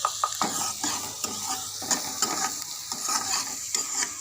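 Onions frying in a pan for a zucchini curry, a steady close sizzle broken by repeated scraping strokes of a spoon stirring, with no voices.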